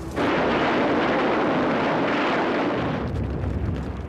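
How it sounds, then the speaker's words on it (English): Explosions from flamethrowers, grenades and demolition charges blasting Pacific-war cave and dugout entrances, heard as a loud, continuous roaring rumble of blasts that holds steady for several seconds before easing slightly. "Every cave or dugout entrance had to be blasted by flamethrowers, grenades, and explosives."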